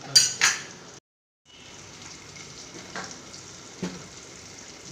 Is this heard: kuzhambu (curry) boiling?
yes